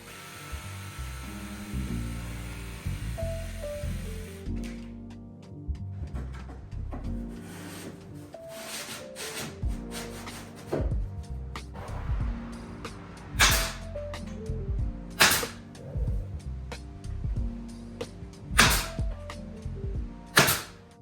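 A jigsaw cuts through MDF along a taped line in several short bursts, its blade rattling and whining near the microphone, separated by pauses and sharp clicks with no one speaking.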